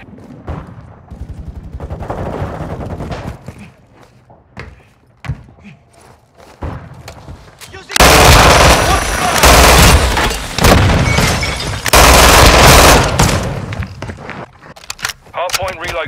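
HK416 gunfire in Call of Duty Modern Warfare 2: scattered shots and thumps at first, then two long, loud, sustained automatic bursts close up, with radio-style game voices heard between them.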